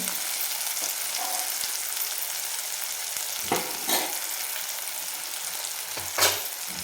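Tomato fries in a pan over a medium flame with a constant close sizzle and a few soft stirring scrapes, and no one speaks.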